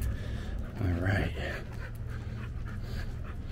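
A puppy pants in quick, breathy bursts close by on a back street, with a brief louder stretch near the middle and a voice talking faintly underneath.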